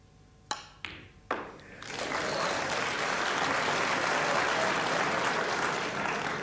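Snooker crowd at the Crucible bursting into applause after a few isolated sharp knocks or taps, the clapping swelling quickly and holding as a dense, steady ovation filling the hall.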